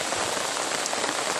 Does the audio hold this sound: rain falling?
yes